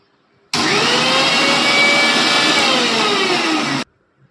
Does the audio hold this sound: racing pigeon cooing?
no